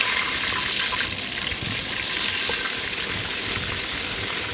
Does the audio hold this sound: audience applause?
no